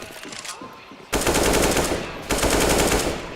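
Bursts of rapid automatic gunfire from UMPs, pistols and rifles in a Counter-Strike match on the Inferno map, loud and dense, breaking off briefly and then resuming in sustained volleys.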